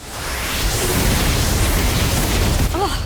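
A broad roaring blast from the Confringo explosion spell in Harry Potter: Magic Awakened, a sustained loud burst of noise filling the whole moment, with a short tonal chime at the end.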